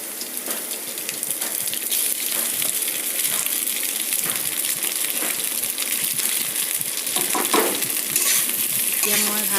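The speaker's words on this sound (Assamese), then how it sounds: "আলুখিনি ভালকৈ ভাজি লৈ মই ইয়াতে দিছোঁ ভাতখিনি" Diced potatoes fried with whole cumin seeds, then cooked rice added to the pan, give a steady, dense sizzle throughout, broken by scraping stirs and soft clinks of the utensil.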